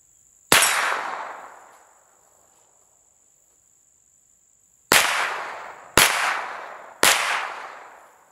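Four sharp gunshots from a Smith & Wesson M&P 15-22 rifle at an outdoor range, one loud crack with a long decaying tail, then after a pause three more in quick succession, with a steady insect-like whine throughout.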